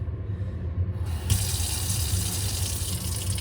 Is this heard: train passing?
no